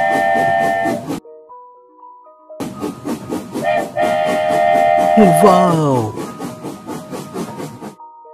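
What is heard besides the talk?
cartoon train running with steam hiss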